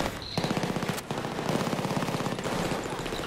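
An automatic weapon in a co-op shooter video game fires a sustained, rapid stream of shots, with a brief pause early on before the burst resumes, loud and close.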